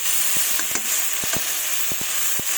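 Moya fish and thorny brinjal with chopped tomato fry in a pan under a constant loud sizzle, punctuated by regular sharp clicks of stirring against the pan.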